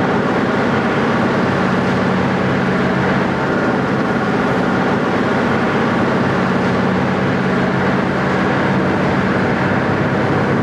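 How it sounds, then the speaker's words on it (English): A loud, continuous mechanical buzzing and rumbling roar from a high-speed train head resonating at 17 Hz holds steady throughout, with a faint low hum underneath and no pauses. "Every surface shakes violently, and the whole head buzzes with noise."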